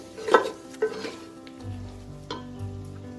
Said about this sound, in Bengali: এটাকে খুব ভালো করে কষিয়ে নিতে হবে।